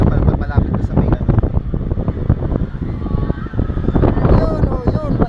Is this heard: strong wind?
yes